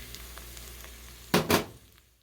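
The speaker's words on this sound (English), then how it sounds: "So I'm going to cook this tomato paste. It's almost like kind of toasting it." A whole can of tomato paste for a ground beef meat sauce toasts in a hot pan, giving two short, close bursts of sizzling and stirring against an otherwise quiet background.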